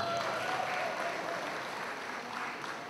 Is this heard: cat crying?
no